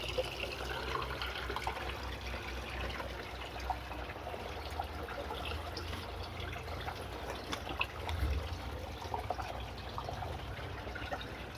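Water refilling a PVC pipe line after a ball valve replacement in a tight spot, a steady low rushing and trickling wash that stays even and moderately close for the whole stretch, with no talking.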